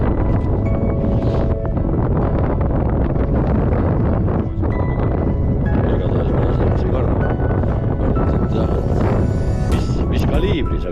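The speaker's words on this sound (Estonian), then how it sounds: "Ja, tuulekene paitab." Strong wind blows across an open frozen lake during winter ice fishing, a loud, constant rushing roar that buffets the microphone, with voices talking faintly beneath it.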